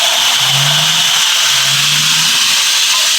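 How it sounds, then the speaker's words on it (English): An electric belt grinder runs steadily with a bright, broad hiss and a low hum underneath, close and continuous, with no voices. "So turn on my grinder"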